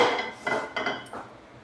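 A metal kadai picked up and handled in a home kitchen while making sunnundalu, giving a few close, light clanks and scrapes of pan on metal over about a second, with no voices.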